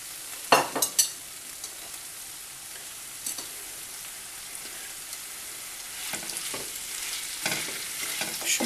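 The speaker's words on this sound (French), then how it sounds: "je vais y mettre les poivrons et les oignons. Et les faire dorer et fondre un petit peu" Bell peppers and onions frying in a pan for pork chops with pepper sauce, a soft steady sizzle with a few sharp stirring clatters near the start and again toward the end, no talking.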